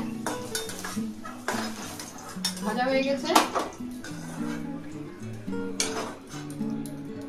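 Utensil scraping and clinking against a wok as fried taro stolons are lifted out, with several metallic clinks and scrapes at close range under steady talking.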